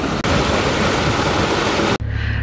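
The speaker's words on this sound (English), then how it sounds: "There's that much water in the system. Don't even need to open the paddles. Look, it's just flowing in there." Water pouring into a canal lock from a flooded system on the Aylesbury Arm, a loud broadband rush that cuts off abruptly near the end.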